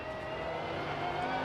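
GT race cars, a Cadillac and a Bentley, drone past at Road America, a steady distant engine roar holding level throughout the brief moment.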